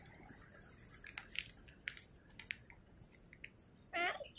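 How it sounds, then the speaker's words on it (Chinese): A small bird chirps in a park in Taiwan, with a few faint, scattered tweets and one brighter, quick trill near the end, heard at a distance against a quiet outdoor background. "小鸟，小鸟。"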